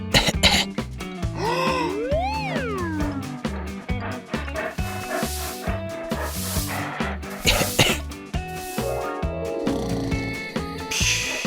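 Repeated coughing and throat-clearing sounds, exaggerated and theatrical, over playful background music, a cartoon voice imitating a fox's coughs.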